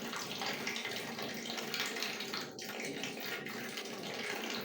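Tap water runs steadily into a sink as a young child washes her face at home, a continuous close splashing rush with brief interruptions where hands dip into the stream.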